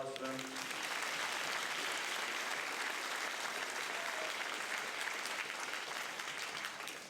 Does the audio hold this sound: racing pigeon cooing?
no